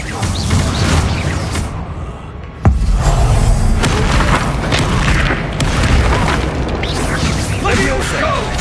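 A Bombarda spell explodes in the Hogwarts Legacy video game, a sharp boom landing a few seconds in over a loud, dense bed of continuous game combat noise.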